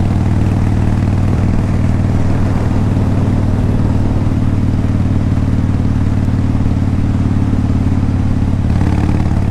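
A 2002 Harley-Davidson Low Rider with a 5-speed gearbox rumbles steadily at cruising speed, its deep engine drone blended with constant wind rush, loud and continuous throughout with no talking.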